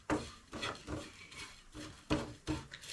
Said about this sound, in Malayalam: മല്ലിപ്പൊടി, ഗരം മസാല ഇത് ചേർത്ത് നല്ലപോലെ ഒന്ന് ഇളക്കി ചേർക്കുക